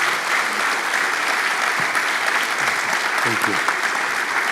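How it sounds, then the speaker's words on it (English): Sustained applause from a conference audience for a minister at a plenary session, steady and broad throughout, with a brief spoken thanks over it. "Please join me in a round of applause for Minister and for Lina."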